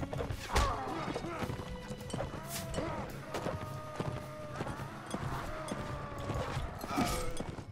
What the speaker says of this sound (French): Ils ont quand même des chevaux.